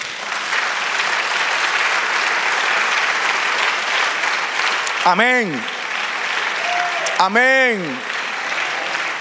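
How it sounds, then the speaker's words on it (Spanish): A church congregation gives a long, even burst of applause at a sermon. Voices call out briefly over the sustained clapping near the end. "Dad un aplauso al Señor."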